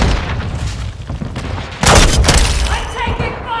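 Call of Duty battle sounds with a loud burst of gunfire and a booming blast midway, over steady background rumble, with voice chatter mixed into the game audio.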